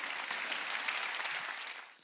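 Church congregation at a Wednesday worship service breaking into brief, steady applause during a sermon, many hands clapping together in a short burst that fades slightly at the end.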